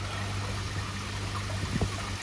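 Water trickles and drains through a freshly cleaned Nexus 320 pond filter, a steady close running flow under a low constant hum, with a few louder splashes near the end.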